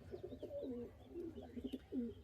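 Young pigeons for sale coo softly in a run of low, rolling calls, fairly close but quiet, repeating several times without any voices.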